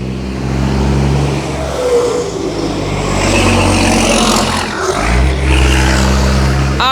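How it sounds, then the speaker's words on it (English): A truck passes close by on a street, a loud broad engine roar that swells and then shifts, a steady rumble throughout with no talking. "the truck was passing"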